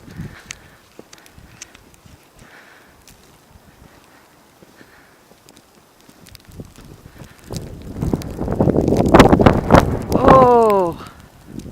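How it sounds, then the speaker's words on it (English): Wind in a winter snowstorm: quiet crunching steps give way to a loud, rumbling gust buffeting the microphone, and a person speaks over it. "Oh, the wind is blowing the snow off."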